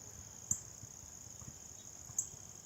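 Crickets and other insects chirp in a steady, high, continuous drone outdoors near a basketball court, faint and unbroken, with a few soft low thumps underneath.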